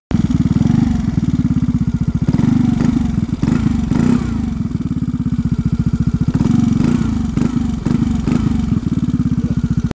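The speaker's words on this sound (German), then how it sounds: "der Auspuff lohnt sich schon, weil der Sound wirklich gut ist" A Vespa GTS Super Sport 125 scooter engine with an aftermarket exhaust idles and revs close up, its throaty exhaust putting out a steady low rumble with a few rising throttle blips and clattery mechanical noise.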